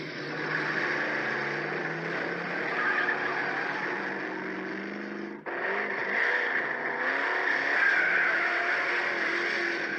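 A car driving and skidding, playing from a clip: a loud sustained engine roar with tire screech, a brief dropout midway, then the engine and skid noise resume strongly until the end.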